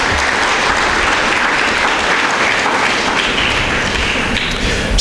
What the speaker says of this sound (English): Let's applaud him this morning.